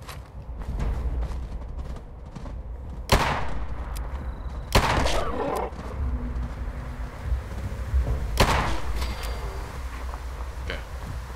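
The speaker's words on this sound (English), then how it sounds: "Shotgun." Shotgun blasts in the video game Fallout 76, three sharp loud reports spaced a few seconds apart over a steady outdoor ambience with faint wind and insect-like background.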